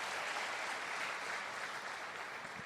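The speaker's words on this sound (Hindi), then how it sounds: "जोरदार ताली दोस्तों इसके लिए।" Faint, distant applause from an audience at a motivational business seminar, a soft continuous patter of many hands at low volume.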